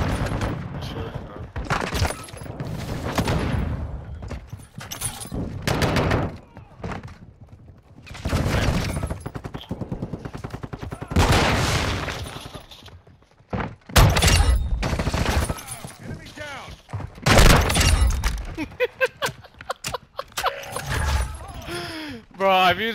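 Rapid gunfire in Call of Duty: Modern Warfare II, bursts of automatic shots and sharp cracks coming in clusters between pauses, with a player talking excitedly over the fighting.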